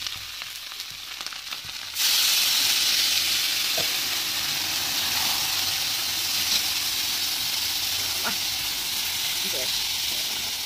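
Water poured into a pan of fried fish and tomato bursts into a loud, hissing sizzle that holds steady and close, following a quieter stretch at the start.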